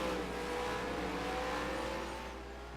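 Race car crossing the finish line at Elko Speedway: a loud, sustained engine drone held steady at high revs, then fading slightly toward the end.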